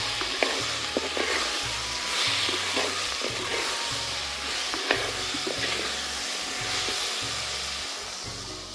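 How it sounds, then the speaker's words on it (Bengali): Fish pieces lightly frying in oil for a tangy mango fish curry give a steady, close hissing sizzle that runs throughout, punctuated by scattered pops and stirring clicks, with no voices. "নিয়ে এটাকে একটু হালকা করে ভেজে নেব"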